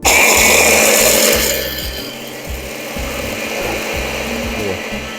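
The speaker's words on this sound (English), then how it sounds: "I'm going to put the almonds. I'm going to put the garlic. Then I'm going to grind them." Almonds and garlic are ground together for Genovese pesto, a loud, continuous rasping and scraping with a steady rhythmic grinding pulse, close and dominant throughout.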